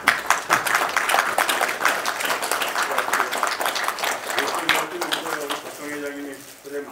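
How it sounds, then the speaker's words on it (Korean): An audience at an inauguration ceremony for a regional residents' council president in a cultural center claps in a sustained burst, thinning out near the end as a voice begins speaking. "다시 한번 축하의 박수 부탁드립니다"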